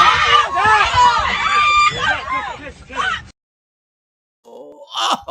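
Several voices wail and scream in long, rising and falling cries over crowd noise, then cut to silence before a short, sharp outburst returns.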